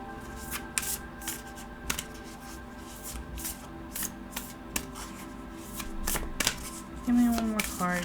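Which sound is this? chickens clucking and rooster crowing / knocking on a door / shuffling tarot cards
shuffling tarot cards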